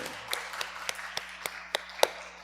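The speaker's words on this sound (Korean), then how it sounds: "박수 한번 쳐주세요" A small indoor audience claps in slow unison, about nine evenly spaced, distinct claps in a quiet room, with no talking over them.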